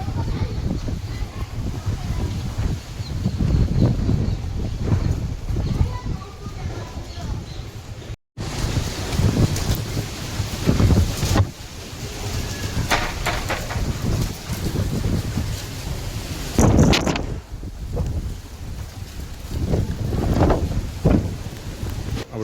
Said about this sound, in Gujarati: પવન ને વરસાદ ને એવું બધું જાજુ છે